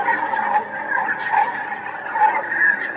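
A Prizm 5.1 RGB custom lightsaber with a shattered blade and an Annihilation sound font gives a steady, buzzing electric hum that wavers and swells as it is swung, with rising whooshes and medium crackling flicker throughout, loud and continuous.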